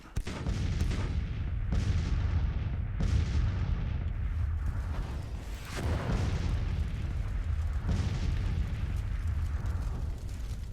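Artillery fire from Grand Tactician: The Civil War, at the Chancellorsville battle, booms repeatedly over a dense, continuous battle roar, loud and heavy throughout.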